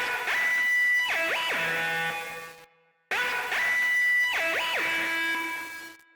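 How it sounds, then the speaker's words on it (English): Heavily distorted hard FM lead from the Purity synth plays a counter melody with sliding pitch bends, a phrase heard twice with a short gap between, loud and dry without talk. "I just use Purity, the hard FM lead, but here are the notes that this one plays."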